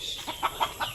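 Chickens clucking in a vegetable garden where okra and eggplant grow, with a few short, rhythmic clucks close by at moderate loudness.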